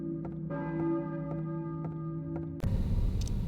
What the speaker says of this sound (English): I heard the bell of a church